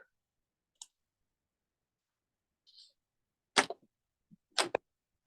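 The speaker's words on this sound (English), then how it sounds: "I'm going to go in with some scissors." Scissors snip dried flowers a few times in a quiet room: two crisp, sharp cuts stand out, with a couple of faint clicks before them.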